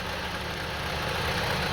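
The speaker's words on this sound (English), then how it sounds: "now the engine is still running smooth" A Honda CR-V engine idles smoothly under the hood during a rough-idle diagnosis, a steady close low hum with an even mechanical whir and no change in pace across the short stretch.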